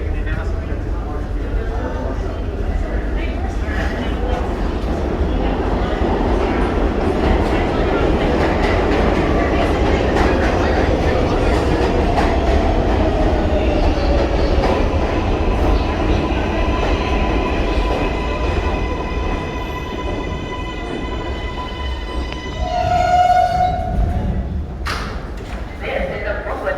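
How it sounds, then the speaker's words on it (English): A Brooklyn-bound 4 train on the New York City subway rumbles and rattles steadily throughout, with rising motor whine and squealing brakes near the end as it slows, heard from inside the car. "This is a Brooklyn-bound 4 train."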